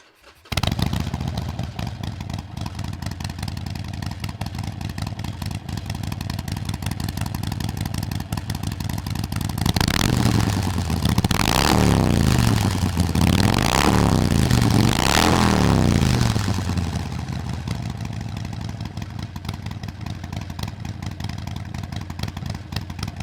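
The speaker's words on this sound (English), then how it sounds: "let's go ahead and fire up the Shortshots Staggerd with the standard baffle installed" A motorcycle fitted with new Shortshots Staggerd exhaust pipes and standard baffles idles with a throbbing, steady note, then revs up several times in a row before settling back to idle. No one speaks.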